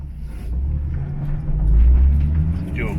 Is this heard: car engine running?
yes